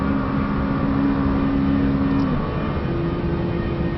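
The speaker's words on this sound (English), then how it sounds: "They've done such a good job rendering the sound and feel of the cars in ACC." McLaren 600LT engine in the Assetto Corsa Competizione racing game, a steady sustained drone with a held tonal whine that drops briefly and then resumes at a higher pitch, loud and constant with no talk.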